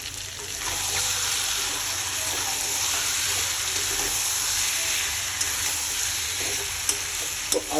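Ginger garlic paste fries in a pan while a chicken curry is cooked Bengali style, giving a steady loud sizzle close by with a few faint clinks near the end.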